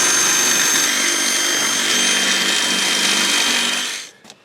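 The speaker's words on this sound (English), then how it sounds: "I'm just going to have to get a drill in there and oblong that hole" A steady, high-pitched whine of a power drill enlarging a hole in a Mercedes-Benz W126 S-Class door runs continuously for about four seconds, then cuts off and spins down.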